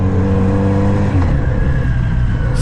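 A 2021 Kawasaki Z900RS ABS motorcycle engine revs up hard and close, a loud rising roar climbing toward its roughly 10,000 RPM redline, then easing into a rougher, steady drone.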